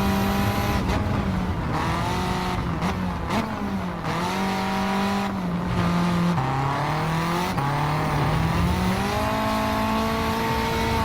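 A turbocharged car with anti-lag in the Gran Turismo racing game, on a Nürburgring track build: a loud, continuous engine that revs and shifts pitch up and down, with tire squeal, and no talk over it.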